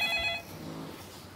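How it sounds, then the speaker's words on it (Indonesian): Telephone ringing with an incoming call to a radio talk show, a short bright trill heard once near the start, then fading into a quieter room tone. "Ini ada telepon masuk lagi"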